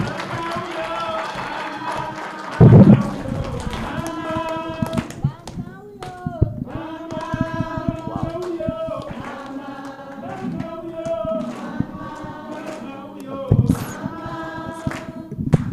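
An audience at an International Women's Day assembly applauds, bursts of hand-clapping and crowd noise mixed with voices and choir singing, with louder clapping peaks near the start and end amid ongoing chatter.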